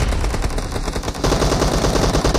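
Rapid automatic gunfire in a PUBG team deathmatch, loud and close, with a steady stream of shots that grows denser and heavier partway through. No one speaks.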